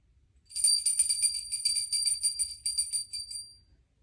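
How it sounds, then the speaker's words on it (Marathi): A small handheld prayer bell is rung during a Vasubaras puja at home in America, with rapid, continuous bright jingling for about three seconds, close and alone. "चला बेल वाजवा"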